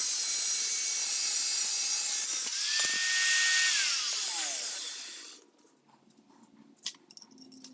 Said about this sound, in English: I'm using the angle grinder with a cutoff wheel to cut the axle to length